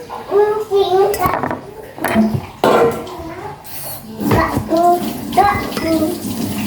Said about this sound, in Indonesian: Sekarang aku mau cuci jagungnya karena mau menggunakan jagung